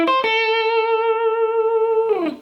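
An electric guitar plays a short blues lick in the minor blues scale: a bright picked note bends and rings out sustained for about two seconds before a quick sliding tail, close and without talk.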